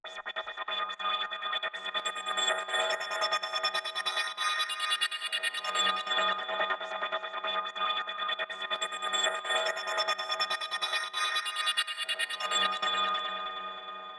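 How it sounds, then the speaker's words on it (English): A synth pad/lead sample in a dark techno production, a sustained tonal texture with a pulsing, slightly rhythmic shimmer and swelling phrases, fairly quiet and heard alone. "Next we have another pad/lead sample that sounds like this"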